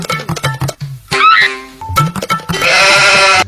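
A goat bleats in a series of loud, wavering cries close by, one drawn-out bleat followed by a longer rising call, with some rustling and shuffling in between.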